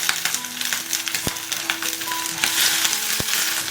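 Shrimp heads fry in hot oil with ginger slices, a close, crackling sizzle with scattered pops and a couple of sharp clanks from stirring.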